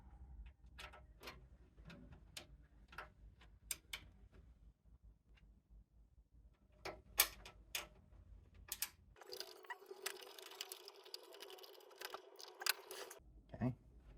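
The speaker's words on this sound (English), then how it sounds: "I'm gonna screw each one of these in." Components are screwed into a gaming PC case with small metallic ticks and clicks of a screwdriver at close range, followed by a stretch of louder scraping and rattling handling noise.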